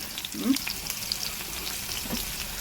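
Chopped onion is dropped into hot oil in a cast iron kadai that is being seasoned. It gives a close, bright, continuous sizzle and crackle with a few stirring scrapes, and no one speaks.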